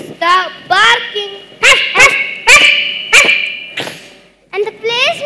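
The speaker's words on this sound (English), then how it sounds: "they heard the bark of a dog" A dog barks sharply several times in an irregular series, loud and close, with short yelping harmonics between barks.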